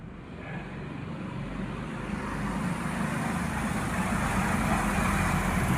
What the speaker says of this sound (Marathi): या ठिकाणी वाहने सुरू झालेली आहेत.